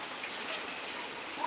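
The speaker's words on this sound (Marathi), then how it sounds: "आमच्याकडे तर पाऊस सुरू सुद्धा झालेला आहे" Rain falls steadily outdoors over a field, a soft, even patter with scattered drops throughout, no voices.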